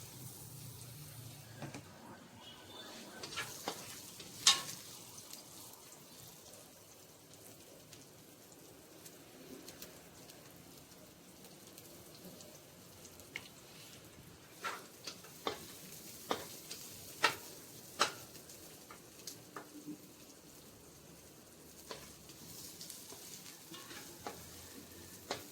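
Onions sizzle steadily in a pan for adobong pabo, turkey adobo, with a soft frying hiss broken by intermittent scraping stirs and clicks of the utensil. No voices.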